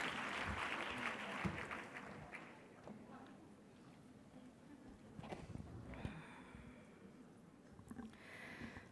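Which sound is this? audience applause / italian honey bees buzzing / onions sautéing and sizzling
audience applause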